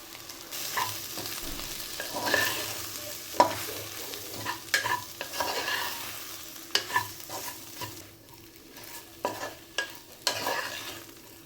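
Okra seasoned with chilli powder, turmeric and salt fries quietly in a pan, with a soft continuous sizzle broken by irregular scraping taps and clinks of a spoon stirring, and no voices.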